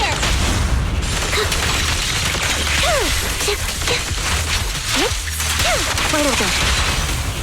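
A video game battle with loud, continuous gunfire and booming explosions, whooshes and impacts layered densely together, while voices call out over the fighting.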